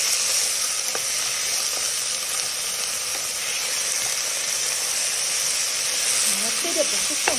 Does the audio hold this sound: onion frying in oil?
yes